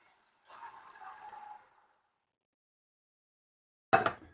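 Potato starch water is poured into a roast chicken gravy made with meat juices, a short, soft liquid splash lasting about a second, followed after a quiet pause by a single sharp knock.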